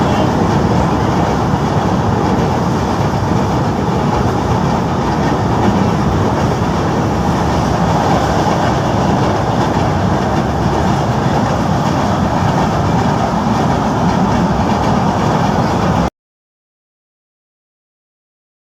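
Inside a moving train, a loud steady rumble and rattle with faint clickety-clack of wheels over rail joints continues without a break, then the sound cuts off near the end.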